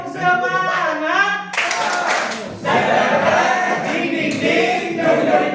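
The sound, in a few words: rhythmic spirit clap by a school class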